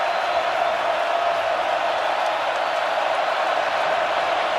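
A sellout football stadium crowd of more than 81,000 at a Notre Dame versus Clemson game roars as a steady, dense wash of distant noise, unbroken for the whole stretch with no clear voices.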